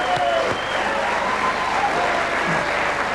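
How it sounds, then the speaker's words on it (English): A crowd at a rugby league event claps continuously, a steady, fairly loud patter of many hands with faint voices mixed in. "That's a clap."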